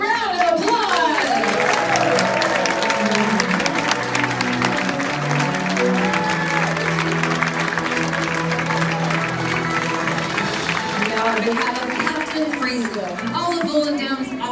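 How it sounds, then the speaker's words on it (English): Passengers applaud and cheer at a Holland America cruise chef show, sustained dense clapping from a large crowd with music and voices mixed in beneath it. "Would you please join me in thanking them with a big round of applause?"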